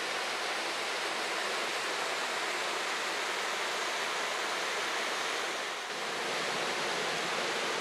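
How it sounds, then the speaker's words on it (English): Parker Brook rushing through a long rock gorge in old-growth forest, water flowing over ancient stone in a steady, loud, broadband roar with a slight dip near the end. "The stream flows over ancient stone and under the leaning trunk of this old-growth yellow birch."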